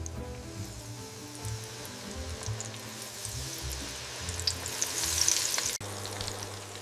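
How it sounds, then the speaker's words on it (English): Batches of coated chicken pieces deep fry in hot oil for an orange chicken dish, a steady bright sizzle with crackling pops that swells louder toward the end before a sudden cut, with no talk. "I'm frying the chicken in batches."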